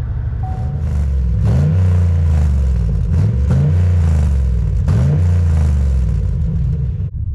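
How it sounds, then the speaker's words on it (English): A 2006–07 Chevrolet Monte Carlo SS with an LS4 V8 and aftermarket exhaust rumbles loudly at idle close by, with three sharp throttle blips rising and falling at a steady spacing. "I'll let you hear the aftermarket exhaust right here."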